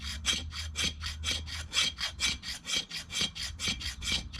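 A knife spine scraping along wood to raise fire-starting shavings, a dry rasping stroke repeated about a dozen times in a steady rhythm, close and clear with no talking.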